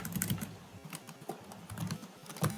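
Keys clatter on a computer keyboard as code is typed, a quiet run of irregular taps with short pauses and no talking.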